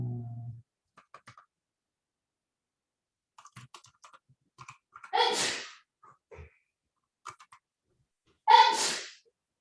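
Two loud sneezes about three seconds apart stand out against a quiet room with faint keyboard clicks and typing between them.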